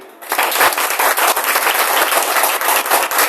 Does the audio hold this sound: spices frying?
no